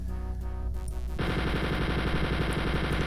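Rapid enemy gunfire in the first-person shooter Doom II mod MarsWar, a dense stream of shots that starts abruptly about a third of the way in and continues loud and steady over game background noise.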